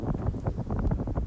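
Strong gusts of wind buffet the microphone on an outdoor disc golf course, a continuous low rumbling roar with no talk over it.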